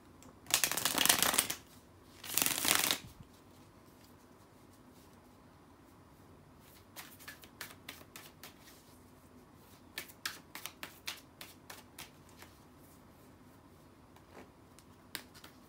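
Tarot cards shuffled by hand in a few loud riffle bursts at the start, followed by quieter scattered taps and card flicks, close up with no talking.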